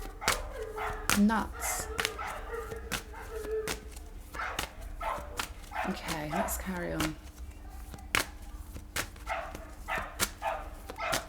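A dog barks repeatedly in the background, with sharp, fairly loud yaps scattered across the stretch while a person talks over and between them.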